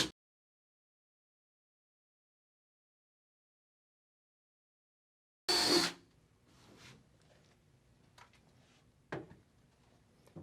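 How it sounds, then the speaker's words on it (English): A power drill with a 3/8-inch bit bursts loudly into action drilling corner holes in a case for a wheel kit, then settles into a quieter, uneven whir with scattered clicks and knocks. "We'll now use a drill with a 3/8 diameter bit to drill the corners"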